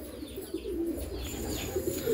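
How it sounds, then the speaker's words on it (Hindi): Ameeran Tambda pigeons on a farm near Hyderabad coo in low, rolling murmurs, with a few faint chirps mixed in at close range. "देख सकते हैं आप अमीरन कबूतर है"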